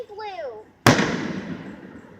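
A single firework explodes with a sharp loud bang and a long crackling, fading tail, just after a short whistling rise, with people watching nearby.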